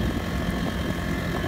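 Honda 35cc engine pushing an Expandacraft boat across rough water, a steady close buzzing drone at about 40% throttle with no talk.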